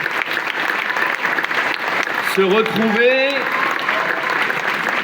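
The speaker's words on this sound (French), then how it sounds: "On peut les applaudir." Audience applause at a municipal New Year's greetings ceremony, sustained dense clapping from a crowd in a hall, with a voice briefly speaking over it midway.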